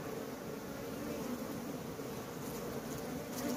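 Honey bees swarm around an open hive with a weak laying-worker colony, a dense continuous buzz close by, steady and fairly loud with no voices.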